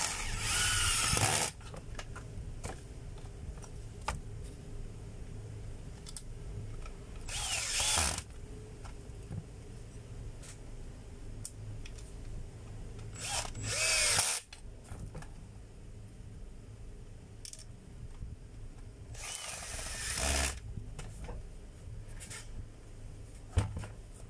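A screw is driven in with a drill, with several short loud bursts of motor whine separated by quiet stretches of faint handling and clicks.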